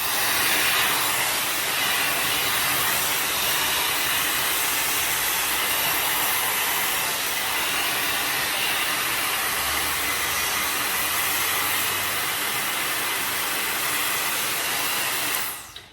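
Bondiboost Everlasting air styler blowing steadily while drying long hair, a loud continuous airy roar with hiss that holds level for the whole stretch and cuts off at the end, with no talking.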